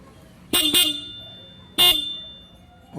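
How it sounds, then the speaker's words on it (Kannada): A Yamaha FZS motorcycle's single horn gives two quick loud honks close by, then a third short honk after a brief pause. "ಹಾರನ್ ಸಿಂಗಲ್ ಹಾರನ್ ಇದೆ ಗಾಡಿಯಲ್ಲಿ."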